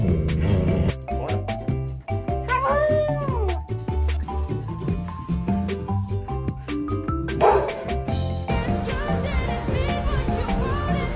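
A dog vocalizes in a lively string of barks, yips and whining, meow-like sounds, close and fairly loud, with a brief human voice in places.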